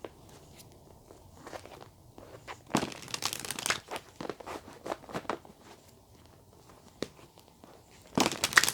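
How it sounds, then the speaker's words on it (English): Tarot cards are taken out and handled close to the microphone, making soft crinkling, shuffling and tapping sounds in irregular bursts, with a louder rustle near the end. "Let me get your tarot cards out first, and then I'll get the message from the book as well."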